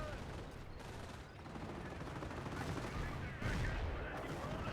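Mortars firing in a video game battle, pounding Allied positions; a dense, continuous roar of gunfire and blasts with no pauses, swelling louder in the last second.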